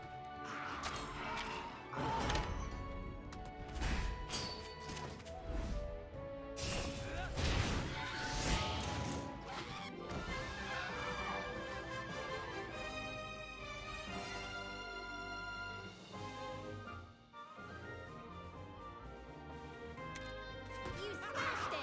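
Heavy smash attack impacts in Monster Hunter Stories 2, with crashing hits and whooshes layered over loud, continuous game music for the whole stretch. Speech-like sound mixes in.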